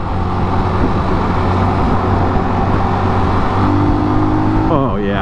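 A newly acquired motorcycle on a road trip through Mexico, its engine droning loud and steady at full throttle, with a shift in engine pitch near the end.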